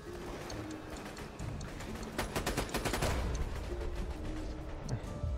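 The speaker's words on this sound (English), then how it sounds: "Don't worry, I'll just keep shooting the king." Rapid automatic gunfire rattles away at a boss king in co-op Borderlands 2, with a dense burst of repeated shots in the middle over a busy background of game ambience.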